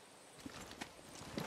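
Horse hooves clip-clop faintly in the video game Far Cry 6, soft scattered footfalls over a dense, hissy game background.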